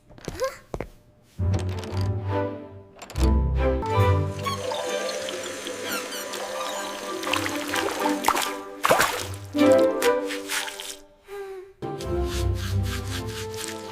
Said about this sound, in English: I brush my teeth now. I wash my face.